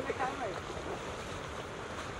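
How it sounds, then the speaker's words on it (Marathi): A constant rushing roar of fast-moving water at a waterfall, broad and unbroken, with some wind buffeting the microphone. "फोर्सने अजूनच वाढतंय पाणी"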